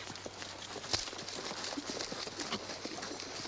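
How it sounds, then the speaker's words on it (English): Horse hooves clip-clop in a steady, moderately paced rhythm at a middle distance in an outdoor Western setting, faint and without talk. "I'll help you up on your horse, Brad."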